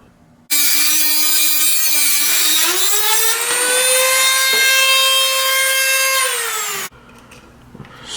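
A saw cutting off a piece during motorcycle clutch work on a Ninja 400, a sustained loud tonal grinding whine that rises slightly in pitch over about six seconds, then stops abruptly.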